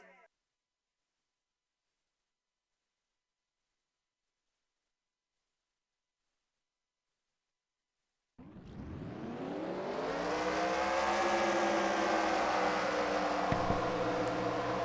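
Stock cars firing up and rolling off on a pace lap at North Wilkesboro in a racing video game, a loud sustained engine drone with a revving pitch that starts suddenly after a long silence and continues steadily to the end.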